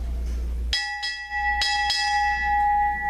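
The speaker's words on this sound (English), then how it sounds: "Strike 4 bells." A ship's bell rung during a Navy ceremony: four loud, clear metallic strikes in two close pairs, each ringing tone sustained and decaying as the next strike lands, with no talking.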